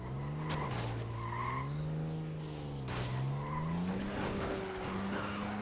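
Vehicle in the video game Dead Rising 2 Off the Record skids continuously, its loud, wavering engine drone and tire screech sweeping up and down for several seconds without pause.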